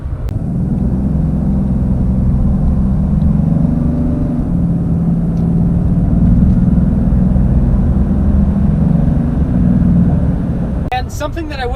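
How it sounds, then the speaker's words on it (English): A 2019 Ram 3500 heavy-duty diesel truck roars steadily under acceleration, a loud, continuous low rumble that holds throughout, with a brief rattle near the end. "this truck actually accelerates very quickly"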